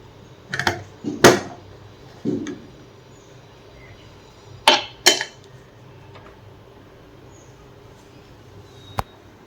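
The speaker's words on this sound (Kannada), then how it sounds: "ಸೊ ನಾನು ಕುಕ್ಕರ್ನ ಕ್ಲೋಸ್ ಮಾಡ್ತೀನಿ" A pressure cooker lid is closed in a home kitchen while masala rice is being made, giving a few sharp metallic clanks and knocks spaced over several seconds, with a final light tap near the end.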